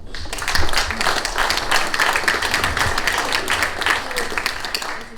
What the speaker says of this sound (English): a round of applause please for Laurie Mains